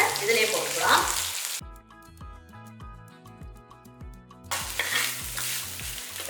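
Onions sautéing in a pan sizzle with scraping stirs at the start and end, while a stretch of music with plucked tonal notes fills the middle.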